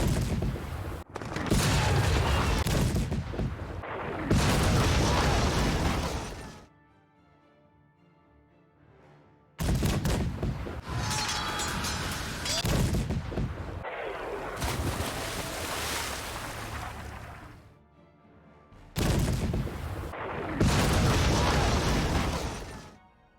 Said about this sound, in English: shooting all my ships